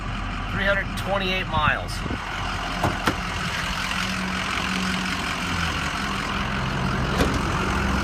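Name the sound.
2004 Ford F550 truck engine started and running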